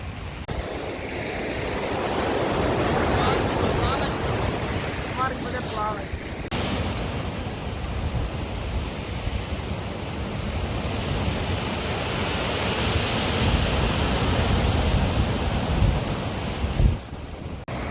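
Stormy sea surf on a cold, rainy day, a broad steady roar of waves with wind buffeting the microphone, loud and continuous throughout.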